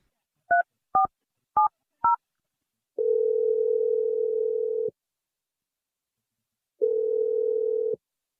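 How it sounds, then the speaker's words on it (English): A telephone number dialed on a keypad, four quick separate tone beeps, then two long steady dial or ringing tones with a pause between, clear and isolated. "I'm going to dial her number right now"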